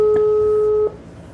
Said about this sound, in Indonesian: saya coba langsung telepon ya